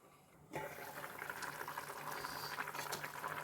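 Quiet, steady bubbling of egg tamarind curry boiling in a covered pot starts abruptly and continues as a soft, crackling simmer.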